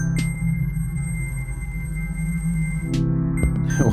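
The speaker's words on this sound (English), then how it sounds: "So we'll hear what freeze sounds like." A TX-6 mixer's freeze effect holds a sustained, droning synthesized tone with steady low hum and high whine, broken by a few brief clicks and bursts near the end.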